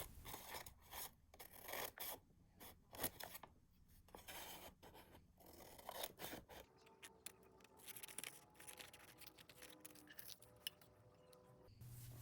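Scissors snipping through a paper portrait, with quiet, close rasping cuts and scraping in an irregular rhythm, some passages faster and brisker, all faint and without talk.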